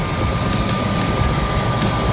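A Bell 206 helicopter's engine running, a loud steady turbine whine with rotor thump filling the whole stretch, close and continuous with no talk.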